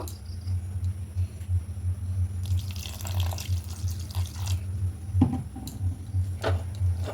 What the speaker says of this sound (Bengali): এবার এখানে পরিমাণ মতো জল অ্যাড করব